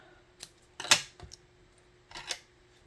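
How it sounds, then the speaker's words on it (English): Ribbon scissors trim paper in a few quiet, close snips and crisp rustles, spaced apart over a few seconds, with no talking. "let's just trim these up with our ribbon scissors"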